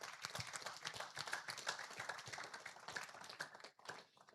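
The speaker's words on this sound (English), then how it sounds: "Please give her a round of applause." Audience at a teen career talk giving a round of applause, a faint, steady patter of many hands clapping that tapers off at the end.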